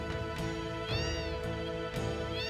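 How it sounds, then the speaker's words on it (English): Cat-like creatures in the video game Final Fantasy VII meow repeatedly, with several short, synthetic-sounding mews in quick succession over a steady game music background, no voices. "You just walk into them and they meow."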